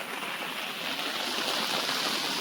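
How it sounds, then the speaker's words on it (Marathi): Flood-swollen river in Konkan during heavy rain, its water rushing past under full pressure as a dense, continuous roar with no breaks. "पूर्ण प्रेशरने जातोय पाणी."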